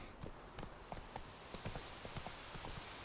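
Horse hooves clip-clop in The Witcher 3, a series of irregular, fairly faint thuds and knocks over a low game ambience, with no one talking.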